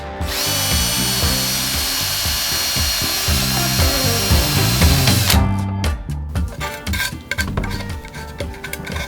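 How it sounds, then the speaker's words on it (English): A step drill bores through metal, a loud, grinding whine for about five seconds, then stops into a series of rattling metallic clicks and taps. "So if you've never used a step drill, it has incremental hole sizes"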